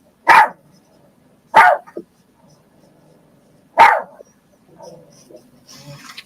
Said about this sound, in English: She'll see Mario and bark at him like that.